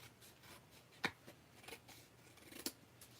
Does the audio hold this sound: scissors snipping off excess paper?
yes